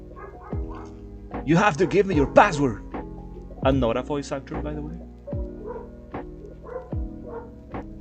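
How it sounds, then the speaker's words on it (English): A pet dog barks and yips repeatedly in the background, loud bursts coming and going in uneven clusters, while a person talks over it throughout. "If you can hear my dog going bananas"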